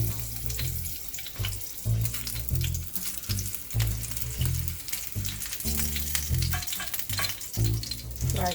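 Chilies frying in hot oil in a pan for garnish, a loud close crackling sizzle pulsing with repeated stirring and tossing, some watery hiss mixed in, without talk.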